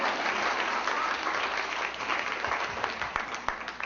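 Audience applause after a keynote motivational speech, a dense sustained wash of clapping from a crowd filling the room, with a few louder individual claps toward the end.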